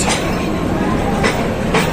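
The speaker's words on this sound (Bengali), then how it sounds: "এখন নারায়ণগঞ্জ স্টেশনে ট্রেন চলে এসেছে" Narayanganj commuter train pulling into the last station, a steady rumbling rail noise with a few brief louder rattles, heard close and continuous throughout.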